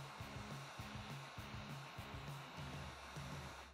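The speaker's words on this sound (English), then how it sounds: "It's very important that you keep the heat gun constantly moving so you do not burn or scorch the surface" Heat gun blowing hot air over a scored foam mat, a steady close whooshing hiss with a faint pulsing motor hum beneath, continuous and without speech.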